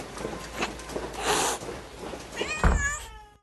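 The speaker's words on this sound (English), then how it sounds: "Paul, those cats." Cats meow and yowl up close, a few short cries and rustling scuffles ending in one drawn-out, wavering meow.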